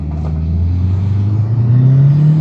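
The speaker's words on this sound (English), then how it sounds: "let's come to a stop and then give it some gas and see if it shudders" A Ford Focus pulls away from a stop at a green light, its engine droning loudly, the pitch climbing steadily as it accelerates.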